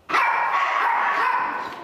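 A dog at a pet boarding hotel lets out one long, sustained bark or whining yelp after a brief quiet start, loud and close, with no talking.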